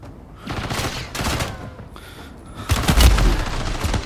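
Automatic gunfire in a Rebirth Island video game match, several loud bursts of rapid shots in quick succession, close and punchy, with brief pauses between volleys.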